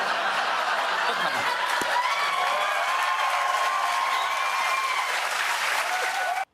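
An audience applauds steadily for several seconds, a dense wash of clapping with faint chuckles mixed in, ending abruptly.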